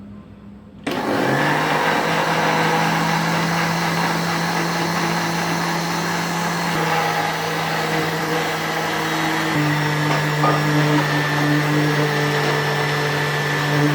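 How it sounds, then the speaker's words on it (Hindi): Electric kitchen blender grinding chilled raw mango for aam panna juice, a loud steady whirring drone that starts abruptly and runs continuously, with slight shifts in motor pitch as the contents blend. "और इसको अच्छी तरह ग्राइंड कर लेंगे"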